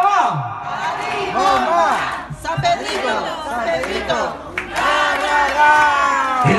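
A crowd at a mayordomía village festival in Cuayuca de Andrade, Puebla, cheers and chants together; many overlapping voices rise and fall loudly and continuously, close by, with shouted, sung syllables throughout.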